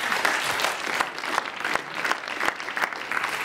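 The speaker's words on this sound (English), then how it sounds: "Please join me in a final round of applause for them." Audience at the launch of a climate adaptation action plan gives a final round of applause for the presenters, steady dense clapping from a large crowd throughout, fairly loud and unbroken, with no voices over it.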